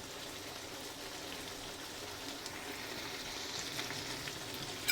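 A pot of fish curry with carrots and potatoes bubbles and sizzles in a steady soft crackle that swells slightly toward the end, close and quiet, without speech.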